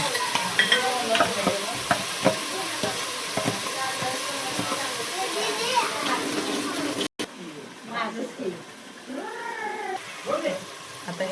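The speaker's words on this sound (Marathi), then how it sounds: "हा लाल होईपर्यंत आपण प्युरी भाजून घेऊया." Tomato puree roasting with browned onions in a pan for a village-style Kolhapuri chicken rassa, a loud steady sizzle with stirring scrapes that cuts off abruptly, followed by quieter sizzling under some background voices.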